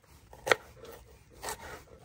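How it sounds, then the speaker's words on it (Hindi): A medium onion is finely chopped with a knife on a board, two or three soft, sharp cuts spaced apart in a quiet setting. "प्याज को बारीक बारीक काट लेंगे।"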